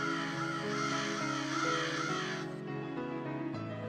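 Crows caw repeatedly in a cartoon, a continuous harsh, raspy chorus of calls at moderate level, layered and steady for the whole few seconds.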